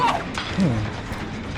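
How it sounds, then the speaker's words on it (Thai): A generator runs in Dead by Daylight with a close ratcheting, gear-like mechanical clatter that keeps going throughout, and a faint voice slides briefly underneath. "ได้ยินเสียงเครื่องแล้ว"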